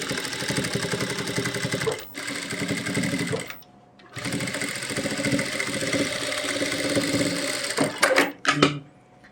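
Sewing machine stitching an Afghani salwar, running in steady close-up bursts with two brief pauses and a few stop-start stitches at the end.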